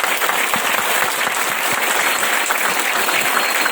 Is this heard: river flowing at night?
no